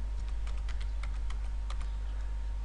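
Typing a command on a computer keyboard: a quick string of crisp key clicks, close and fairly faint, over a steady low electrical hum with no voices.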